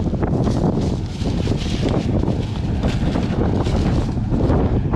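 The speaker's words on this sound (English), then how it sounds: "Pretty windy out here today. It's supposed to rain tonight, maybe this afternoon, so hearing a lot of wind noise." Loud, constant wind buffets the microphone outdoors on a farm field, producing a rumbling roar that barely lets up throughout.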